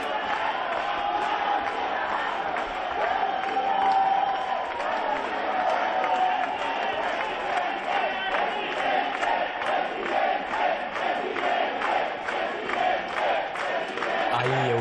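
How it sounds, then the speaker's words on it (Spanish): Ciudadanos party supporters at the party headquarters applauding and cheering as candidate Albert Rivera arrives after a televised election debate, a sustained dense roar of clapping, whoops and shouts with rhythmic chanting pulses running through it. "le aplauden los militantes del partido que han seguido el debate desde aquí"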